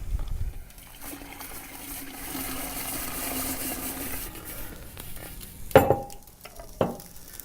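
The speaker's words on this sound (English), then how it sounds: "the bubbling is taking place because the rubber hose is very hot compared to the liquid nitrogen" Liquid nitrogen bubbles and hisses softly around a hot rubber hose, a faint continuous seething fizz followed by a couple of sharper clinks and knocks near the end.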